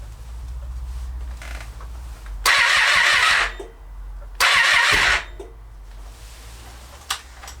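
A 2012 Triumph Street Triple 675R motorcycle engine cranks over in two loud bursts of a second or so each, failing to catch, with quieter pauses between and a faint click near the end.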